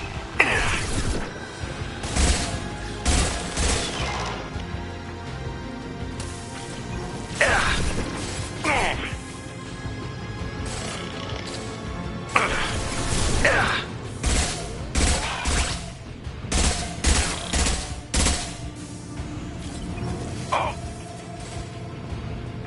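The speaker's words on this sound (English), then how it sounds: "Firing a high impact shot." Mass Effect combat gunfire: scattered sharp shots and impacts with metallic crashes and bursts spaced through the stretch, mixed with occasional game voices.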